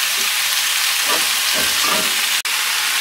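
Broccoli and other vegetables stir-frying in a pan give a loud, steady sizzling hiss, with a few softer scraping strokes of the spatula near the middle and one abrupt break near the end.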